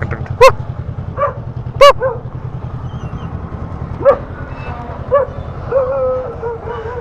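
A dog barks and yips several times outdoors, short sharp calls spaced irregularly over a steady low motorcycle engine hum during a bike taxi ride, fairly close.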